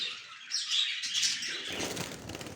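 Budgerigars in an aviary give bright, rapid chirps and tweets with bursts of wing flapping, fairly close and lively, with no talking.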